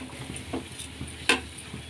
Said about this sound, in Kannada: ಈಗ ರವೆನ ಚೆನ್ನಾಗಿ ಮಿಕ್ಸ್ ಮಾಡಿಕೊಂಡು ಅದರಲ್ಲಿ ಸ್ವಲ್ಪ ಬಾಯ್ಲ್ ಆಗಲಿ